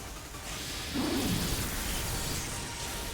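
The Rain Dance move in Pokémon Scarlet/Violet brings steady hissing rain with a low rumble of thunder swelling briefly near the middle, continuous and fairly even throughout.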